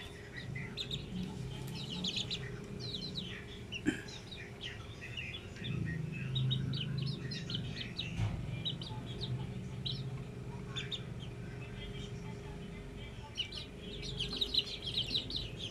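One-month-old Melsim Black chicks peeping and softly clucking in scattered bursts, fairly faint against a low background murmur, with a few sharper knocks mixed in.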